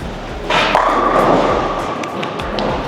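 Reactive Viking bowling ball thrown on new lanes, landing with a thump about half a second in, then a steady rolling rumble down the lane that carries on to the end of the clip.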